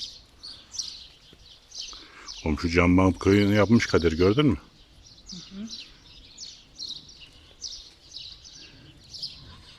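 Small birds chirp in repeated high, short calls throughout, moderately close, at a village house, with someone briefly speaking over them partway through.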